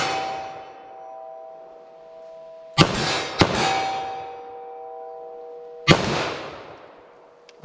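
A .40 S&W pistol fired in a ballistic test at an indoor or outdoor range: three sharp, loud shots with a metallic ringing tone sustained beneath and between them.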